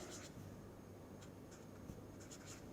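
Faint scratching of an equation being written by hand, with several short strokes scattered across a quiet background and no talking.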